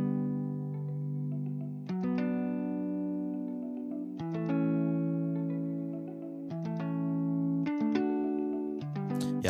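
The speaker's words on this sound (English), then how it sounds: "I'm just gonna add in lots of reverb" Muted, plucked guitar notes drenched in heavy reverb, playing a slow repeating pattern with chords ringing and washing into each other.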